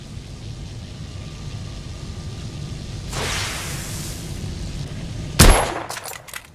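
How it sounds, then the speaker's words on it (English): A rifle with a telescopic sight fires once in The Order: 1886, a sharp, loud crack with a ringing tail after a whooshing swell, over a low ambient rumble. "I've outfitted this one with a telescopic sight. It's ideal for long-range shooting."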